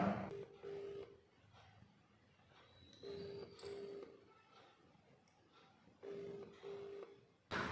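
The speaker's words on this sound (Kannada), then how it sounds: "ಸೊ ರಿಂಗ್ ಆಗ್ತಾ ಇದೆ, ಬಟ್ ರಿಸೀವ್ ಮಾಡ್ತಾ ಇಲ್ಲ." A phone call rings out unanswered, with three regular, evenly spaced ring bursts, quiet and tinny, separated by gaps of faint background.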